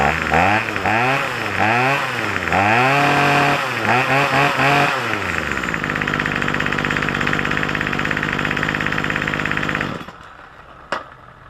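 A small two-stroke Craftsman string trimmer engine, just after a carburetor tune, revs up and down in bursts, then holds a steady high buzzing idle before cutting off.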